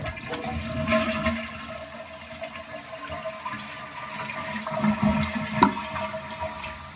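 A household toilet that had been flushing poorly, now fitted with a Korky universal replacement part, flushes with a strong, steady rush of water lasting several seconds, close by and fairly loud, with a surge near the end.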